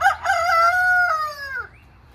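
A rooster from a backyard chicken flock crows once, loud and close, a single drawn-out cock-a-doodle-doo lasting about two seconds that trails off at the end.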